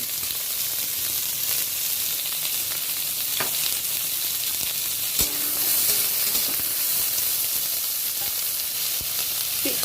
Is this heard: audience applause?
no